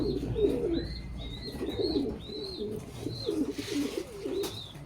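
Young pigeons coo in a low, throaty, repeated rhythm close by, with softer bird calls chirping above them throughout.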